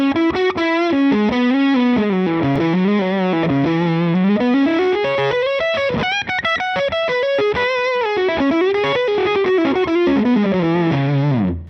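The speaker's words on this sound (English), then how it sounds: "There'll be a little bit more distortion here." An electric guitar plays through a Line 6 Helix amp model with heavy distortion, as a continuous, loud, sustained run of gliding notes and chords, with no talking over it.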